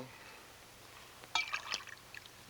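Water is poured into a clear drinking glass, a short bright trickle and splash lasting about a second, close and fairly quiet against a faint room hush, with no talk.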